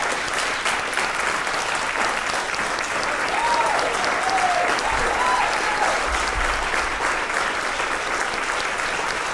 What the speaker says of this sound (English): a round of applause for the 2021 Eagle Scouts of Elm Fork